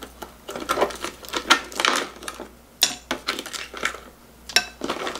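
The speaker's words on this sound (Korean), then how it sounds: "여기도 얼음을 좀 넣을게요" Ice cubes dropped into a bowl of cold Korean cucumber soup, giving a string of sharp clinks and clatters, close and fairly loud, with no voices.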